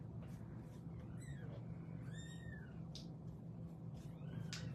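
Young baby kittens whose eyes have just opened cry indoors with several faint, high, thin mews spaced irregularly over a constant low hum.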